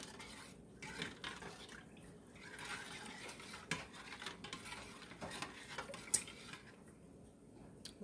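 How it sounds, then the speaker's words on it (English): Gravy for steak fajita nachos being stirred in a pan over medium heat, with a steady scraping and clinking of a utensil against the metal and a light sizzle underneath, fairly close and continuous. "you're just gonna stir it till your gravy get a little thick"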